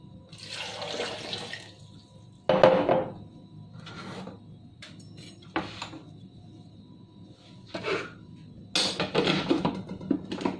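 Cold water splashes and pours in several separate bursts while pear and apple juice is being made, with short gushing pours broken by pauses and a few knocks of containers.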